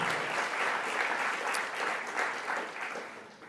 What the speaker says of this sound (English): Give Chad a round of applause.